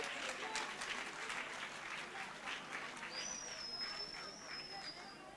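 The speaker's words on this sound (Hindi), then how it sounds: "एक जोरदार तालियां फ्रेंड्स" A crowd at a spiritual retreat applauds after a dance performance, with dense, steady clapping mixed with murmured voices, and a thin whistle-like tone running through the second half.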